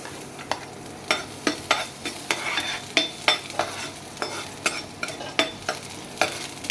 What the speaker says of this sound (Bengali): তেলটা গরম হলে পেঁয়াজ কুচি দিয়ে দেবো। রসুন কুচি